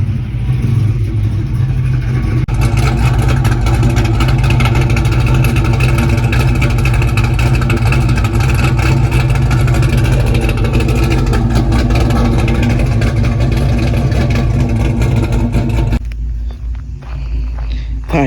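A Pontiac GTO V8 engine idles steadily and loudly up close for most of the stretch, a continuous low rumble that drops away abruptly near the end.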